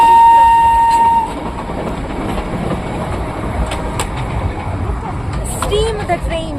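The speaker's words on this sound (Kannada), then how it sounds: "steam the train" A Darjeeling steam train rolls past close by, a steady loud rumble and clatter with a short whistle tone at the start and a brief squeal near the end.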